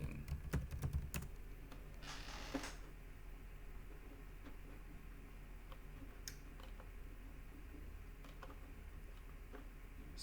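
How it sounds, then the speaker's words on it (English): Quick bursts of computer keyboard typing spell out a short word, light clicky taps close by, then sparse single key clicks over a quiet room hum. "So here I could just type in hacking."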